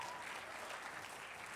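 Audience applause at a Martin Luther King Jr. Day celebration: steady, dense clapping from a crowd, fairly faint and distant, continuing without break.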